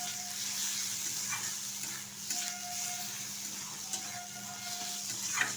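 Hilsa fish oil frying with eggplant in a pan, a quiet steady sizzle with faint occasional clinks and stirring touches, no voices.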